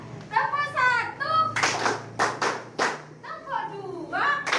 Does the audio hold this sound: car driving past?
no